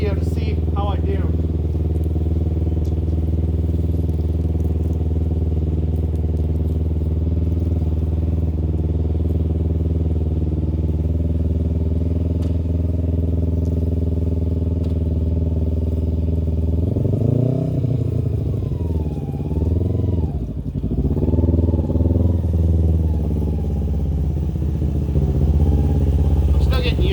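A new motorcycle engine runs steadily nearby while being ridden back and forth in a driveway, a low rumbling idle that rises and dips through a couple of revving surges in the middle.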